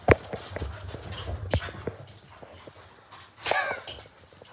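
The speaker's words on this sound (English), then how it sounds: "Get attacked by my dogs." Dogs romping and wrestling indoors, with scuffling paws, thumps and a small whimper in quick irregular bursts, close by with no talk.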